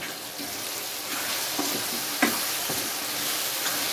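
Chopped ridge gourd sizzles and fries in a pan with cumin seeds. A steady hiss runs throughout, with occasional stirring scrapes and small crackles close by. No one speaks.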